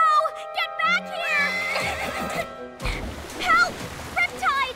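Cartoon horses neigh and whinny in an animated children's show, several high wavering calls over music and splashing water, with voices talking around them.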